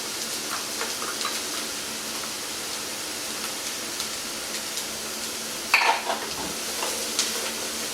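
Chopped onions and garlic frying in a pan for chili con carne, a soft continuous sizzle with faint stirring scrapes and one brief clatter near the end, no talking.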